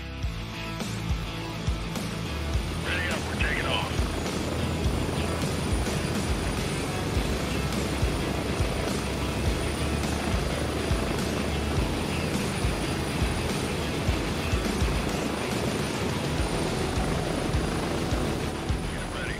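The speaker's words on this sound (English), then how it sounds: "As the helo approached the LZ," A helicopter in the video game Gray Zone Warfare approaching a landing zone, its loud, continuous rotor thump and engine roar filling the scene for the whole stretch, with no talking.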